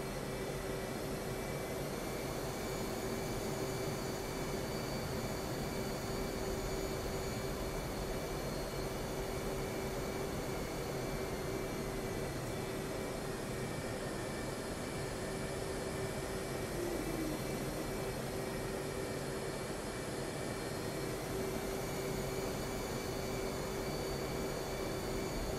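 Steady jet engine roar of a military aircraft taking off from a runway in the DCS World flight simulator in Syria, a constant loud whine with a sustained tone, no voices.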